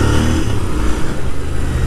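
A GT 650 motorcycle engine revs and pulls hard under acceleration, a loud continuous throaty roar close to the listener with no talking over it.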